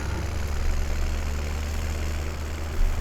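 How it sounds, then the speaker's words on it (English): Massey Ferguson tractor engine in Farming Simulator 17 idling steadily with a deep, continuous low rumble, close and alone, swelling slightly near the end. "we're going to take the Massey Ferguson tractor over to the store"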